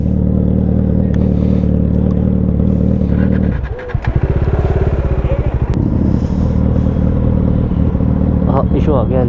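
A Kawasaki Z900 motorcycle engine drones steadily and loudly throughout a group Sunday ride, with a brief dip and rev around the middle, while voices talk over it.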